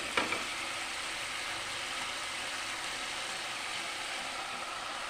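Turmeric and Kashmiri chili are stirred and sautéed in a hot pan, making a steady close sizzling hiss throughout, with a couple of light utensil taps at the start.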